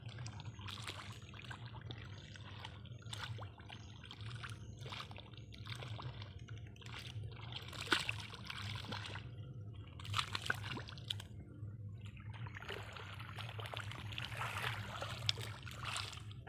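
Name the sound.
water draining out of a flooded paddy seedbed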